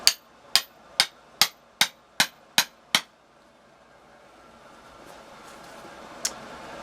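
Flint hammer being driven into a wood block, eight sharp evenly spaced strikes in about three seconds, close and loud, then quiet room noise with one fainter knock later.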